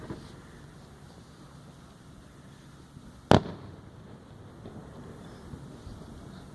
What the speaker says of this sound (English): More firework, more firework.